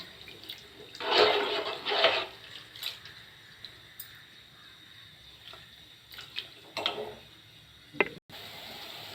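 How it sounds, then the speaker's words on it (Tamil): Bubbling and hissing water churns in bursts as it comes to a boil in a pot, rising and easing over a steady background hiss, with a few small clicks and taps. "நல்லா கொதிக்க ஆரம்பிச்சிடுச்சு."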